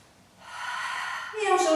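A single audible inhale through nose and mouth during a beginner Pilates exercise. It is breathy and close, swelling to a stronger intake at the end.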